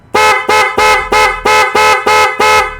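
A loud Honda Click 125 motorcycle horn honks in a rapid series of about eight short, evenly spaced blasts, close by.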